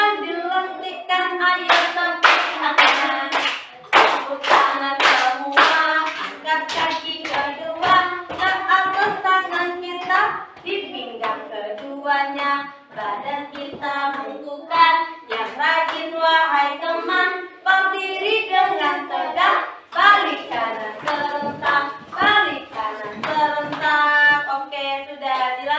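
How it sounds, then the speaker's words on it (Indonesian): Children clap their hands along with a teacher in a classroom, fast bursts of claps broken by short pauses, with singing voices running over them. "ayo tepuk tangan"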